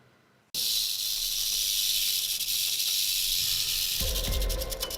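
Big Bob the rattlesnake gives a long, steady hiss close to the mic, starting abruptly after a brief quiet moment and holding loud and continuous, with a rougher, fuller rasp toward the end.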